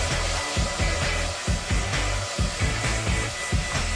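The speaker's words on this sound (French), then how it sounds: "Et maintenant, utilisons le sèche-cheveux." A handheld hair dryer blows in a continuous loud whoosh with a steady motor hum. A regular pulsing rhythm runs under the airflow for the full stretch, and no one speaks over it.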